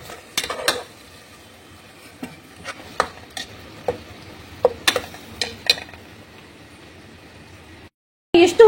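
Onion with a ginger and herb paste fries in tempering oil under a faint, steady sizzle, broken by sharp spatula scrapes and clinks against the pan at irregular moments, with a louder clatter near the end.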